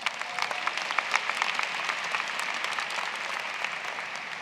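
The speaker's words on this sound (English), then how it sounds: "can you give them a round of applause, please?" A graduation audience at Meadowbrook High School applauds steadily, a broad wash of many hands clapping at moderate distance without speech, holding level for several seconds.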